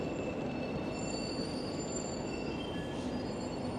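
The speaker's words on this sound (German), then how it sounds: "Da hinten ist die nächste Tram." A tram passes close by near a station entrance, rolling with a steady mechanical rumble and high sustained wheel squeal on the rails, continuous and fairly loud throughout with no voices.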